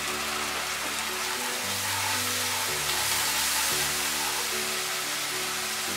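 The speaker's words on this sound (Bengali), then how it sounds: "আমি চুলার আঁচটা মিডিয়ামে একটু কম করে দিয়ে ভালো করে এগুলো কষিয়ে নিব" Turmeric and chili powder frying in a pan for a raw banana peel bhorta with mustard paste, a continuous dense sizzle over medium-low heat with a low steady stove hum beneath, close and even throughout.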